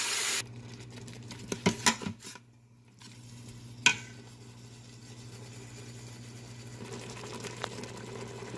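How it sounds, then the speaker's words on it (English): Tomato puree for a beetroot egg curry sauteing in an Instant Pot, with a steady low sizzle, a few sharp stirring clatters early on and a brief quiet gap before the frying hum resumes. "Then add in the tomato puree. I'm going to saute this for about 4 minutes."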